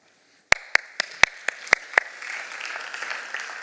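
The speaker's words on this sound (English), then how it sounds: "Thanks very much for this applause" Audience applause at an international plenary session of the Stati Generali della green economy 2025: a few sharp, separate claps open it, then the clapping swells into a dense, sustained wash of applause across the hall.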